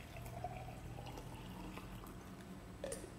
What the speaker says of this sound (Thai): เดี๋ยวเราก็ทำการเทน้ำเข้าไปก่อน